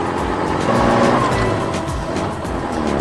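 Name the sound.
yellow skid steer loader clearing debris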